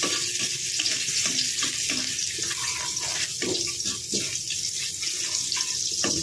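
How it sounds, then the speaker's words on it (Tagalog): Garlic sautéing in a pan for a tilapia dish, a steady close sizzle and crackle of frying oil running throughout with no voices over it. "Magigisa na tayo."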